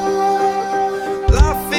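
Turkish rhythmic percussion loop from the Logic Pro loop browser, with sustained tonal layers and a burst of louder hits near the end, playing alone.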